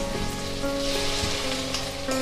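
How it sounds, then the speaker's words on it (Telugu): Steady sizzling and frying hiss of mango pulp in hot ghee, continuous and close, with a few soft stirring scrapes. "కాస్త వేడెక్కాక ఈ మిక్సీ బట్టి పెట్టుకున్న మామిడికాయ గుజ్జంతా ఇందులో వేయాలండి"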